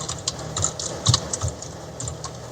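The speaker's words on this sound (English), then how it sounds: "I hear you typing" Typing on a computer keyboard, close and moderately loud, with an uneven patter of individual key clicks and a few heavier strokes over faint background noise.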